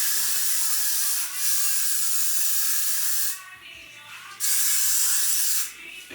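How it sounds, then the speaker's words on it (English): Hair spray hisses from a can onto hair in two long bursts and a shorter one, close and fairly quiet, separated by brief pauses. "gonna spray it down where it got to be."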